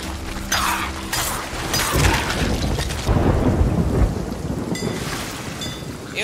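Heavy rain pours steadily while deep thunder rumbles and cracks loudly throughout, in the video game Sea of Thieves.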